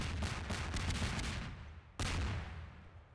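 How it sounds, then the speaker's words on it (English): Explosions in a Portal custom map, the Hetzchase Nailway level, roar as dense, crackling blasts that trail off, then a second sharp burst erupts abruptly and rumbles on. "And then there are explosions."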